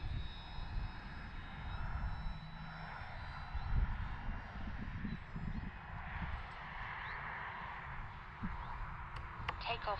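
An E-flite RV-7 radio-controlled airplane on a 4S LiPo battery flying overhead, its electric motor giving a steady, moderately distant whine and hum that swells and fades slightly, with faint wind and outdoor noise.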